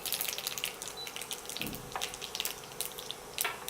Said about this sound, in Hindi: अब तेल अपना गर्म हो गया है, अब इनमें आप 1 चम्मच राई डाल देना